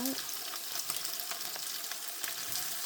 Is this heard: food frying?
yes